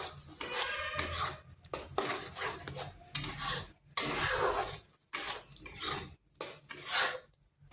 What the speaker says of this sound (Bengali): এইভাবে নেড়ে চেড়ে ভাজা ভাজা করে নিতে হবে।